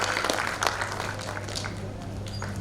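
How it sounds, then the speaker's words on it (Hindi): An audience at a poetry gathering applauds to welcome a guest, a steady dense clatter of many hands clapping that holds evenly throughout. "पुरजोर तालियों से उनका इस्तकबाल करते हैं।"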